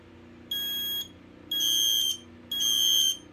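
A wireless, battery-only smoke alarm under test sounds three loud, shrill electronic beeps. Each beep lasts about half a second, with even gaps between them, and nothing else is heard.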